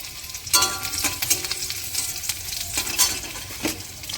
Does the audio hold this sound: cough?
no